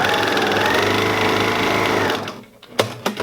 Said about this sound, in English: So I'm going to sew them together.